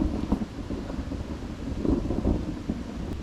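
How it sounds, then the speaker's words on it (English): Thunder rumbling during a heavy thunderstorm with torrential rain at a stealth campsite, a steady low roar of rain and wind filling the background with deeper rolls swelling through it. "You can't even hear me over the thunder because of how loud it's getting."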